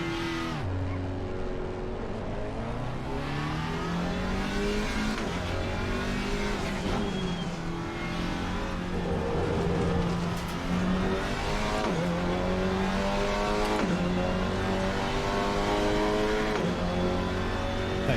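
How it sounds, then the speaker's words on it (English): A GT4 race car in the Assetto Corsa Competizione racing game drives on track, its engine note climbing and dropping steadily through repeated gear shifts, loud and continuous with no talk. "Gear shift sounds interesting. Sounds a bit metallic."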